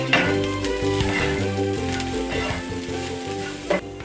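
Onions and peppers fry with Jamaican jerk seasoning in a pan, sizzling loudly up close while being stirred. Scraping stirs break through the sizzle, along with a low tonal hum and a sharp clack near the end.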